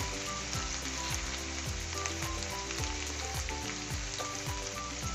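Mixed vegetables with ginger garlic paste stir-fry in a hot pan, a steady sizzle broken by rhythmic tossing thumps and scrapes repeating every half second or so.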